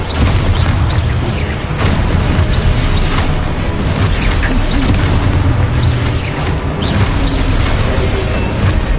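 Expulso spell explosions in Hogwarts Legacy, a continuous barrage of loud booms and crashing blasts layered over heavy rumbling combat noise for the whole stretch.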